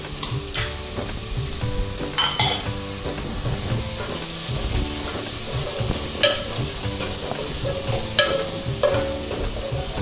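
Onions sautéing in a pan for masoor amti, a steady sizzle of frying with scraping stirs and clinks of a spoon against the pan throughout, no talking.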